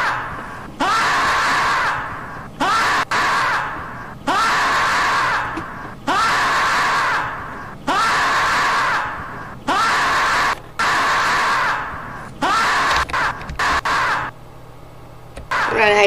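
A groundhog gives a series of loud, harsh screams, about eight long drawn-out cries in a steady rhythm, each broken by a short pause, with nobody talking.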